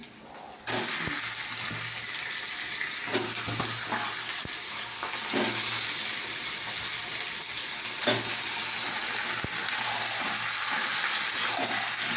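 Meat cooks in a pan with fried onions, sizzling loudly and continuously close by, with periodic scraping and stirring strokes over the steady hiss.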